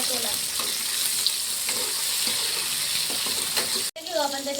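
Tomatoes and green chillies sizzle steadily in hot oil, a close, continuous crackle with light stirring scrapes, then a brief cut to a quieter moment near the end.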